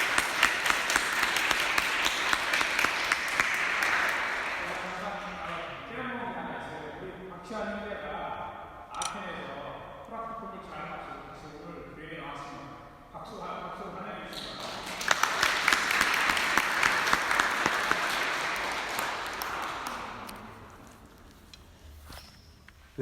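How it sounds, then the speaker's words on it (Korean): Congregation applauding during a Sunday church service, a broad wash of clapping that swells at the start, gives way to singing or talk in the middle, then rises again before fading. "다시 한번 축하의 박수를 드리도록 하겠습니다"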